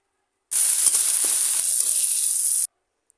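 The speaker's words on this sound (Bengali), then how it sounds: "তারপর তার ভিতরে চিংড়ি সুটকিগুলো দিয়ে একটু ভালো করে নেড়ে নেড়ে ভেজে নেব" Dried shrimp, onion and garlic fry in hot mustard oil with a loud, close, steady hiss that starts abruptly, runs about two seconds and cuts off into silence.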